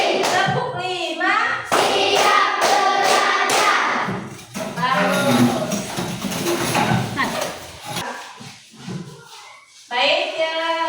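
Sharp hand claps in short counted bursts ring out in a primary school classroom clapping game, mixed with children's chanting voices and loud group noise throughout.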